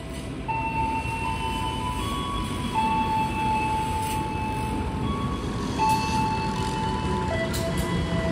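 Menoreh train hauled by a vintage CC201 locomotive arriving at a station, a steady rolling rumble with a sustained horn-like tone and intermittent higher tones, moderately distant, with no talking.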